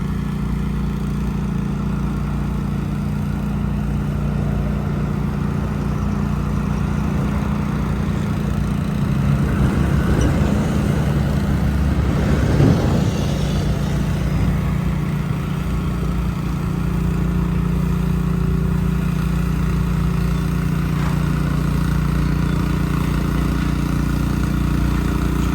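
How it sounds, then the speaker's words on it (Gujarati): A street cleaning machine spraying water along a road runs with a steady, droning engine hum that swells slightly midway as it passes nearby, with no talking. "પહેલાં પાણી છાંટે છે મશીનથી"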